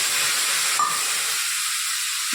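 Green chillies and ground masala hit hot oil in a pan while cooking kadhi, producing a steady, bright sizzling hiss that stays even and close throughout, with no talk.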